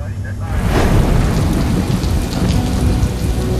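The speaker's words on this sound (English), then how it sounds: "Rain has been hitting Guam on and off all day." Steady heavy rain on Guam, a dense hiss of drops hitting surfaces that fills the whole stretch at constant loudness, with a low distant rumble underneath and no talking.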